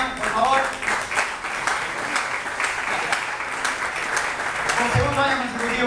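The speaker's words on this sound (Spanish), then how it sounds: "Que también le damos un fuerte aplauso a Luis Cordao" A crowd at an end-of-season party applauds steadily for about six seconds for Luis Cordao, with dense, continuous clapping and some voices mixed in underneath.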